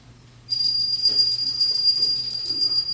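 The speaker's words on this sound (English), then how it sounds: "every time a bell rings, an angel gets its wings" A small bell rings in a Christmas stage play at an acting school showcase, a bright sustained chime that starts suddenly and keeps going over a low steady hum.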